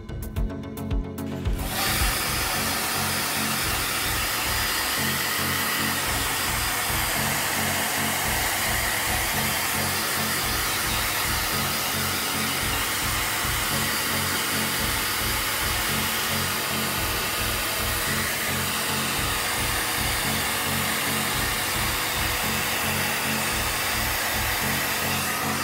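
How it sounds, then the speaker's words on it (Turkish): A hair dryer blows cold air across a graphics card removed from a computer, a loud, steady rushing whir that runs unbroken for the whole stretch after a brief start. "Yerinden çıkardığımız ekran kartımızı soğuk üfleyen bir saç kurutma makinesi yardımıyla temizliyoruz."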